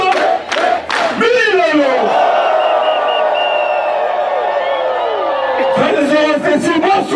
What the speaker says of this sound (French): Applaudissons! Applaudissons! Applaudissons!